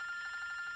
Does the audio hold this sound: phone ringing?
yes